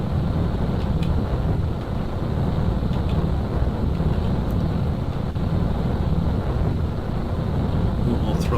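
Strap-on boosters burn on a rocket launch in the Kerbal Space Program video game, a loud, steady low roar lasting throughout. A voice talks over the rumble.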